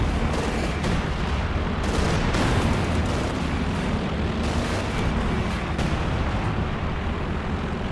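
A bunker-busting artillery barrage in Company of Heroes 2 hits a pack howitzer and tanks: a dense, continuous roar of overlapping explosions and booms, loud and steady for the full stretch with no pauses or speech.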